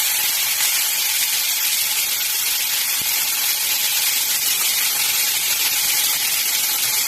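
Chopped onions frying in hot oil for an egg curry with potato and papaya, a loud, steady, close sizzle and hiss that runs unbroken throughout with no talk.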